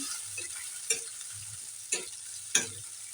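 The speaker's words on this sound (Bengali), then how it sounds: "গাজরটা ভাজতে ভাজতে এখানে এক চামচ চিলি সস সামান্য আদা রসুন বাটা আর টমেটো সস এগুলো একটু মশলা ভেজে নেবে" Carrots frying in a pan with chili sauce, ginger-garlic paste and tomato sauce for fish Manchurian, a steady soft sizzle broken by three sharp scraping stirs, close by with no talking.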